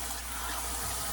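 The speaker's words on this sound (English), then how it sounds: "I'm going to run a little more water over that just to give it a good rinse." Tap water runs steadily over shredded coleslaw vegetables that were salted before, rinsing them in a sink as a continuous, close, even wash with no talking.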